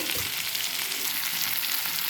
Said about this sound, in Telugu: సిమ్లో పెట్టి వేయించుకున్నాం.